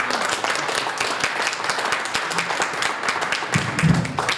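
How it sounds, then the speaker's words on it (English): A crowd claps steadily throughout, a dense, even patter of applause at moderate volume, swelling slightly near the end. "Give them a round of applause."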